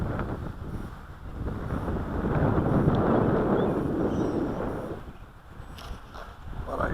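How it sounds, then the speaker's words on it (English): Strong wind hits an outdoor microphone at a model airplane flying field, making a steady, loud roaring rumble that swells and eases over several seconds, with no voices. "It's too damn windy out here."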